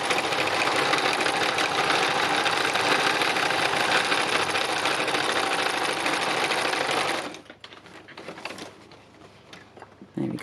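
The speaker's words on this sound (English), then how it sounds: "I'm thinking what I might just do is just do some random stitching now" A sewing machine runs fast and steady for about seven seconds doing random free-motion quilting stitches, then stops, leaving only faint handling noises.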